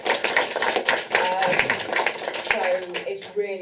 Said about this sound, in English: let's get a clap for that